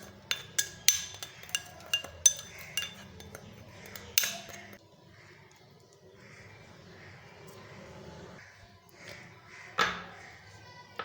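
Spoon and bowl clinks while turmeric, salt and red chilli powder are mixed for an instant carrot, radish, chilli and lemon pickle: a burst of sharp, close metallic taps and scrapes, then quieter rustling mixing and a final clatter.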